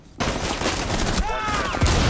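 Shotgun blasts ring out in a close-quarters Rainbow Six Siege house match, sharp loud reports over a dense layer of game noise and gunfire, with voices talking throughout.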